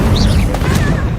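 Incendium fire spell cast in Hogwarts Legacy, a loud burst of whooshing flame with a crackling, booming impact, brief and close over a low rumble of game sound.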